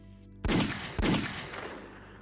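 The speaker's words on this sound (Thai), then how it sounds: "เสียงปืนดังขึ้นมา2นัดติดต่อกัน" Two loud gunshots ring out about half a second apart, each with a booming echo that trails off slowly.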